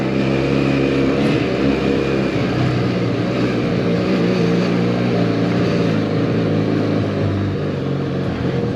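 A Benelli Leoncino 500 motorcycle rides over cobblestones, producing a loud, continuous engine drone with rushing wind throughout and no break in the sound.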